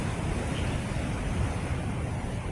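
Rough sea surf along a coast ahead of an incoming typhoon, a constant loud roar of crashing waves mixed with wind buffeting the microphone, no voices.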